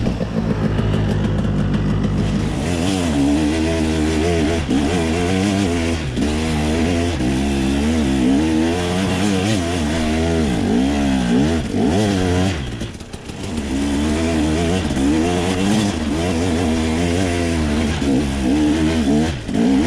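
Loud, close 125cc enduro motorcycle engine labouring steadily uphill, with continuous rising and falling revs as the rider works the throttle on a slow climb, a brief dip near the middle, no talk.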